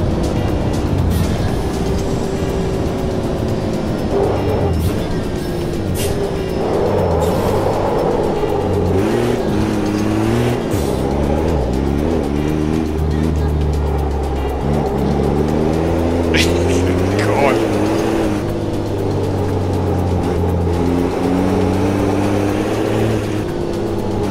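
Racing truck in Automobilista 2 on the Velopark circuit, a loud, continuous engine drone that rises and falls through gear changes and revving, with brief sharper bursts from contact and tyres.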